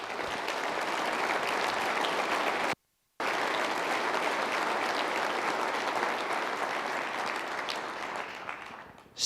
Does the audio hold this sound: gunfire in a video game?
no